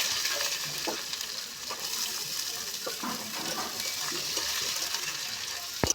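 Onions frying in oil with dried red chilli and five-spice seeds, a steady moderate sizzle with occasional light stirring taps and a sharper clatter at the end.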